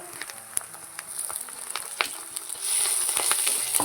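Ginger and garlic paste hitting hot oil in a pan, a steady crackling sizzle with scattered sharp pops that swells louder and denser toward the end, close and without voices.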